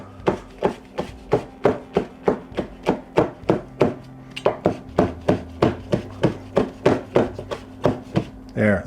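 A kitchen knife mincing a chili pepper on a cutting board, with a steady run of about thirty quick, crisp chopping taps close up, no talk over it.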